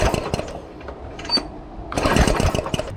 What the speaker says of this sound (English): And then just pull the recoil, and you'll see the spark on this E3.